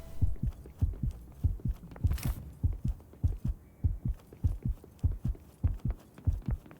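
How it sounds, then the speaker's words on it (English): A heartbeat sound effect in the video game Simulakros, a deep regular double thump repeating about twice per second, loud and close over a low hum with no music, with faint clicks and a brief noise burst midway. "there's also no music when the heartbeat sound is happening"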